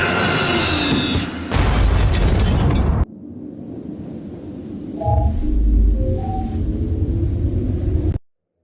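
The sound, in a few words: cartoon explosion, The Amazing World of Gumball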